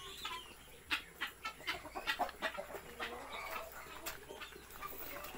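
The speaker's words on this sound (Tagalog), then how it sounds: "Ang dami nilang manok dito." Chickens and guinea fowl clucking and calling around a mountain farmyard, a busy scatter of overlapping squawks and clucks at close to moderate distance, with no talk.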